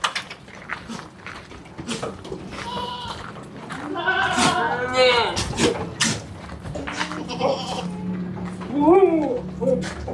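Goats bleating in a pen on a goat farm, several wavering calls up close amid clatter and someone talking through much of it.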